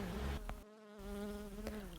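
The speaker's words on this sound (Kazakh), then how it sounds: "Ара ұшқанда біз оның ызыңын естиміз." A bee buzzes in flight, a steady close drone with a humming pitch that wavers slightly, cut by a brief dropout partway through and a couple of faint clicks.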